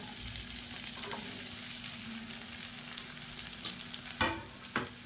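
Chopped okra fries in hot oil with a continuous soft sizzle and crackle, punctuated near the end by a couple of sharp utensil scrapes and knocks, and no voices.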